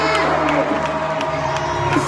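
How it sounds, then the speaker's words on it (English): A large crowd cheers and whoops in a loud, sustained roar, with shouts and a few sharp cries rising over the steady din and occasional voices mixed in. "See the crowd."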